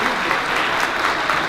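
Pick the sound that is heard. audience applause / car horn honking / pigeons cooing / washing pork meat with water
audience applause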